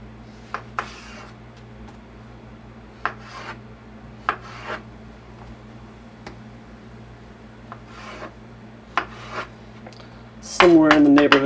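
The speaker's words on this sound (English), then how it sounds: "If you have trouble slicing through the tomato skin, then you know it's time to sharpen your knife." Knife slicing Roma tomatoes on a cutting board, a series of short crisp cuts spaced a second or two apart, close and quiet, followed by a louder clatter at the end.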